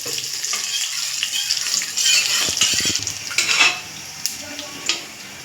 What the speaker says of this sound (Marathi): कधी पण डाळीला फोडणी देताना ना कढीपत्ता जास्तच घ्या